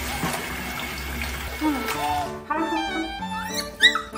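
A rescued stray puppy whimpers with rising, high-pitched whines while ticks are pulled off during a bath, over running water and a person talking.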